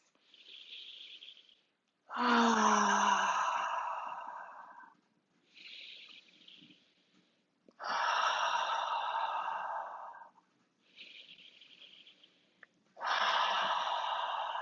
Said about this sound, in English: Sweep straight up the front of the body, over around the mouth, 3 audible exhales.